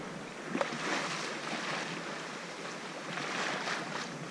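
A sailing boat under sail on open sea between Corsica and Elba, with steady rushing water and wind noise along the hull, a gentle, continuous wash rising and falling slightly.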